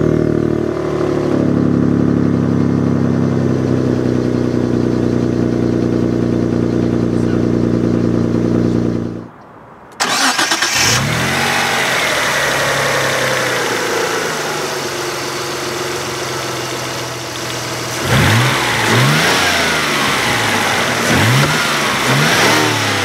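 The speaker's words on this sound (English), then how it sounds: "Beautiful sound from that twin turbocharged 3-liter V6." A 1991 Dodge Stealth RT with a twin-turbo 3-liter V6 and dual-mode active exhaust idles loudly, cuts off briefly, then restarts and revs repeatedly in sharp climbing bursts close by.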